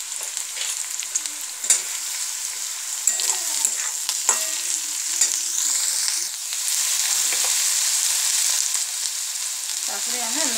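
Onion and capsicum fry in a pan with a loud, close sizzle, broken by occasional spoon scrapes and stirring clatter that grow steadier in the second half.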